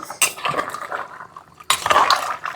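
A spoon stirring pork and koorka in a metal pot, two scraping, clattering passes with a short lull between, close and fairly loud with no talk.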